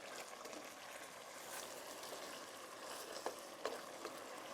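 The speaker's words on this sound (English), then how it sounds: "If you are frying your onions, if you're frying your tomatoes, you add a little bit of salt" Onions and tomatoes frying with salt in a pan give a steady, close sizzle and crackle, with a few sharper pops standing out near the end and no talking.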